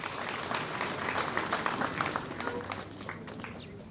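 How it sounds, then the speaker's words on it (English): Crowd applause for a dignitary at a graduation ceremony, many hands clapping in a continuous dense patter with slight swells, fairly close, faint background voices mixed in. "Clap for His Excellency."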